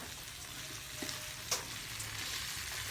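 Buro, fermented rice and fish, cooks in a small pan in a home kitchen in Angono, giving a steady close sizzle with a faint stir or tap partway through.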